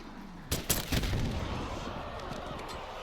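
A frag grenade detonates in a first-person shooter game, two or three sharp loud blasts in quick succession followed by a sustained rumbling roar of gunfire and chaos.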